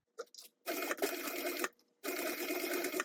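A sewing machine stitches a zipper seam with a 3/8 inch seam allowance on a sling bag. It runs in two close, steady, whirring bursts separated by a brief pause, after a few soft taps at the start.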